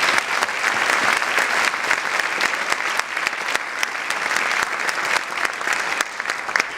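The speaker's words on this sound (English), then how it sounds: "We give them a round of applause." A hall full of people at a 2015 inauguration ceremony applauds students and faculty after a performance, thick sustained clapping with sharp individual claps standing out, steady and fairly loud for nearly seven seconds.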